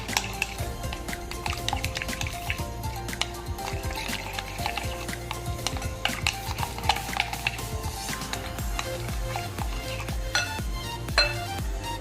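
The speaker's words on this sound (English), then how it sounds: "We'll give this a mix." Spoon stirring freshly ground pepper powder and salt into a chopped-egg canape filling, soft scraping and clinking in a bowl, faint beneath steady background music.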